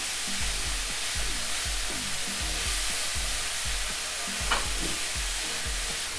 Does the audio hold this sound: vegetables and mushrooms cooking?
yes